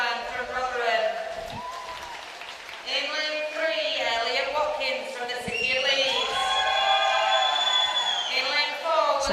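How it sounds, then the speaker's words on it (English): Crowd cheering and shouting in the venue at a regional age-group swimming championship pool, with excited voices and whoops rising over a steady background roar. "some cheering in the venue for Elliot Watkins,"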